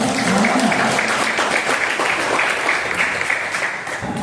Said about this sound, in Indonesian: tepuk tangan untuk Zainal